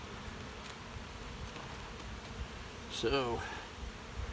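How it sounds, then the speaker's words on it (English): Low buzzing of honeybees from an opened, crowded hive box hums quietly throughout, with a brief louder buzz of a bee passing close by near the end and someone speaking briefly. "This box is absolutely full of bees."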